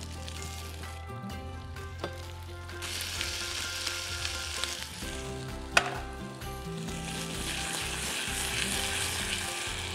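Pumpkin frying in a pan, a steady moderate sizzle that swells as the pieces go in, with a brief clink of a utensil midway and faint stirring, no talking.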